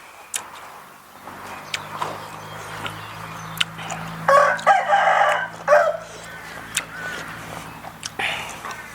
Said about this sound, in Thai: ไก่ก็หลายนกก็หลายครับในสวน